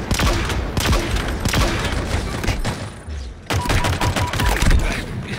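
Rapid gunfire from an unidentified weapon in the video game Halo Infinite rattles out in loud, close bursts of sharp shots, broken by a brief pause before another burst resumes.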